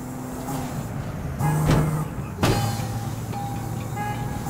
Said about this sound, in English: Oh, finally, a gear change.